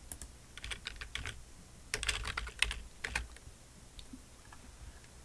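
Keys clatter on a computer keyboard in quick irregular bursts, with a few short pauses between runs of typing, close and moderately loud with no talk.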